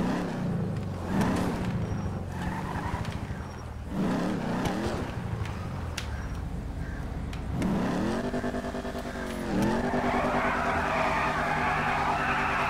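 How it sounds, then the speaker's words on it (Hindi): A car in GTA 5 revs hard to warm up its tyres, its engine rising and falling in repeated loud surges with squealing wheelspin, close and continuous, with no talk over it. "टायर को वार्म अप करने की जरूरत है।"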